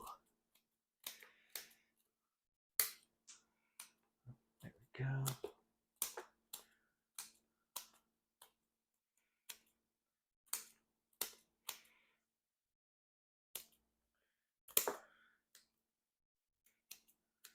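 Medical shears snip repeatedly while a forsythia bonsai is repotted, giving sharp isolated clicks spaced irregularly with pauses, close but faint, and someone speaks briefly in between.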